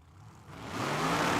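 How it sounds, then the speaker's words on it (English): A supercharged fuel altered drag car at Tucson Dragway during test and tune, its engine note swelling from a low idle into a louder, steady rumble over a second and a half. "Got us a supercharged, altered, ready to go down that right side of the racetrack"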